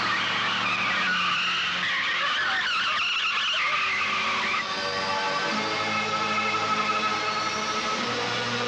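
A car speeds and skids in a 1991 Hindi film scene, a sustained loud tire screech and engine roar that shifts midway and carries on steadily to the end, with no talking.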